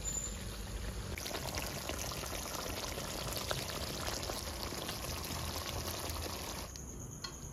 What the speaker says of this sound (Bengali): বেশি দেবো না, অল্প জল দেবো।